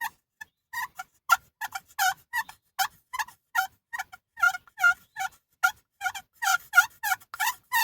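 Wild turkeys gobble in a rapid series of loud, warbling calls, many bursts close together over several seconds, with several birds answering each other and no talk.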